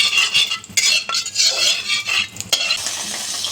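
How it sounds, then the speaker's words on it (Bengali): Fish fries in a hot wok with salt for a Bengali fish curry, a loud close sizzle with bursts of scraping and utensil clatter against the pan, steadying into a continuous hiss. "এখন আমি কড়াতে মাছটা ছেড়ে দিয়েছি, দেখতেই পাচ্ছেন। আমি মাছটা একটু ভেজে নেব।"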